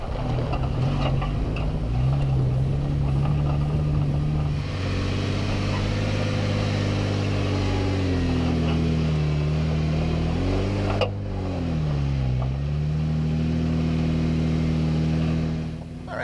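A Jeep Wrangler JKU idles and then drives up onto a trail, climbing a curb, its engine a steady close hum that rises and falls in pitch as the load changes, with no talking.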